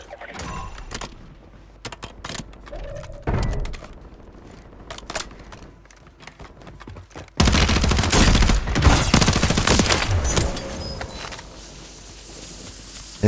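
Guns firing in a video game match on Rebirth Island, scattered sharp shots and quick bursts at first, then a dense, louder stretch of rapid automatic fire and clatter before easing off.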